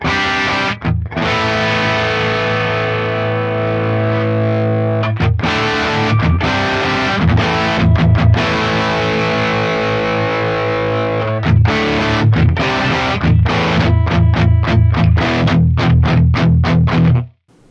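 An electric guitar runs through an Axe Fx III modelling a Friedman Dirty Shirley amp with the drive pushed up. Thick, bassy distorted chords ring out loud and sustained, with bursts of choppy palm-muted strumming and no talking.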